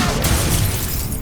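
A Confringo blasting spell goes off in the Hogwarts Legacy video game, a loud, broad explosive burst filling the short moment and fading slightly at the end.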